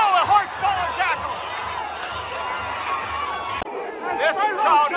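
Crowd noise at a high school football game between WestLake and NorthShore, a dense roar of chatter and shouting voices that swells and dips throughout, with a brief sharp drop near the end before the clamor rises again.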